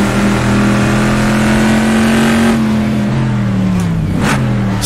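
An original 1960s Chevrolet Stingray Corvette races on a desert track in Assetto Corsa. Its engine gives a loud, close, sustained drone whose pitch holds steady, then dips through a gear change near the end.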